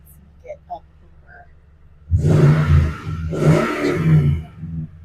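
2017 Toyota Tundra V8 engine revving close up, two strong swelling revs over a low idle, preceded by a few faint distant sounds.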